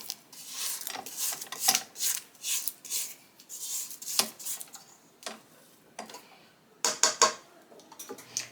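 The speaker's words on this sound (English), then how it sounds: "we're going to scrape the sides down." A spatula scrapes the sides of a mixing bowl of thumbprint cookie dough, giving repeated rasping strokes with short pauses between them, close and fairly loud with no talking.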